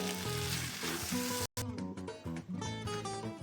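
Kimchi fried rice sizzling in a hot pan, a loud, bright, continuous crackle with one brief cut partway through and no voices.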